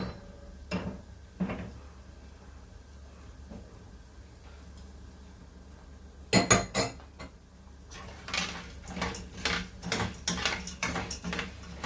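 Jaggery boiling in a pan for sweetened beaten rice flakes is stirred with a metal utensil, giving sharp scraping and clanking bursts against the pan, sparse at first and then clustered and louder over a low hum.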